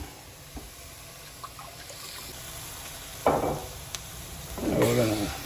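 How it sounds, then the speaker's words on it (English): Tomato juice poured into a sizzling sauce pan for an Italian sauce, a close liquid splash and sizzle rising over low background frying, with a brief spoon clink between. "we'll add the tomato juice to it"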